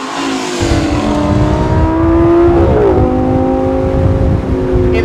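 A 2013 Lamborghini Gallardo engine accelerates hard and loud up close, its rising tone climbing through a gear change near the middle and pulling strongly again afterward.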